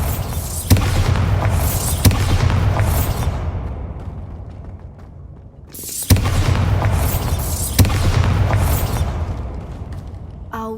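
Bombarda blasting spell cast in Hogwarts Legacy, two rounds of booming explosive bursts with sharp cracks and crumbling debris, each loud impact decaying into a rumbling tail before the next volley; no talking.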